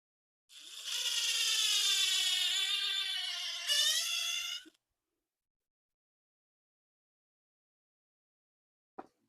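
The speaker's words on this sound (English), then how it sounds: "First off, I'm going to pre-drill." A power drill pre-drilling wood for a trellis frame whirs steadily for about four seconds, pitch dipping slightly under load, then stops; a brief click follows after silence.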